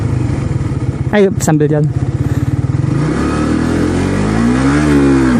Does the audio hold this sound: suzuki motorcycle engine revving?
yes